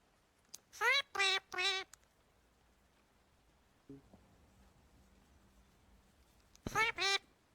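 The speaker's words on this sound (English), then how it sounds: "Look at this bird." A duck-like bird calls in three quick harmonic bursts, goes quiet over a faint low hum, then calls twice more, close and clear with no talking.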